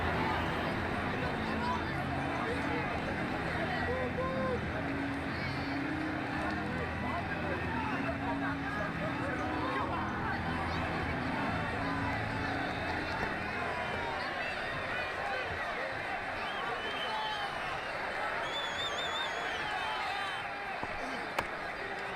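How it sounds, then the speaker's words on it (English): Game crowd at a simulated India versus New Zealand international cricket match roars and cheers steadily throughout, a dense continuous wash of noise with a commentator talking over it. "crowd really enjoyed that one."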